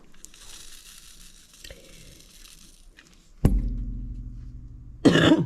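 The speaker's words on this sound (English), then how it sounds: "Try not to cough too much." A single sharp cough up close, followed shortly by a second burst of throat noise, against a quiet background.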